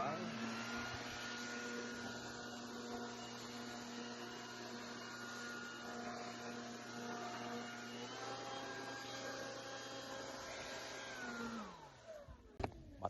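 A turbo leaf blower for clearing fallen leaves in autumn drones at a steady, moderately loud pitch for several seconds and then cuts off, leaving a few light knocks.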